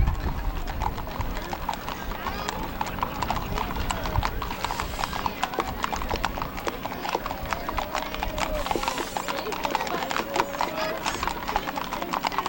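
At a Mule Day horse parade in Columbia, Tennessee, many horses' hooves clip-clop on pavement in a continuous, overlapping patter, with an occasional whinny and people talking in the background.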